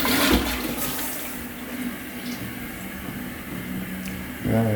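A toilet flushes in a rented home's bathroom, a steady rushing wash of water that holds for several seconds at close range and then gives way to a gurgling refill near the end.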